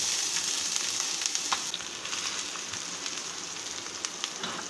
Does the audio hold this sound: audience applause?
no